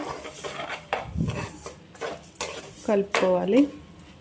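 Spoon scraping and stirring sugar through rava kesari in a pan, with soft clinks of utensil on metal and a faint sizzle, in intermittent strokes close by.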